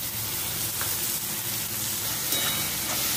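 Crab and potato sautéing in onions over high flame for a Malvani crab curry, a steady dense sizzle with faint stirring scrapes, continuous and close throughout.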